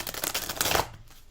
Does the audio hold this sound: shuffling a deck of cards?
yes